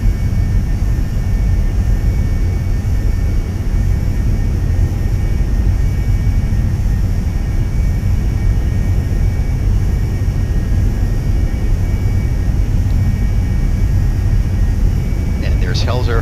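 A Carenado Cessna S550 Citation II jet in the X-Plane 11 flight simulator on final approach gives a loud, steady low engine roar throughout, with a brief higher chirp near the end.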